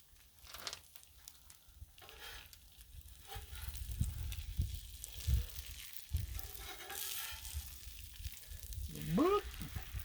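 An egg fries on a hot griddle with a steady, soft crackling sizzle throughout, and a spatula scrapes and pushes underneath it now and then.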